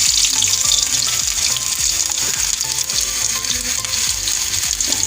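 Panch phoron spices and garlic fry in mustard oil with a loud, dense crackling sizzle, punctuated by regular spoon scrapes and stirring knocks close by.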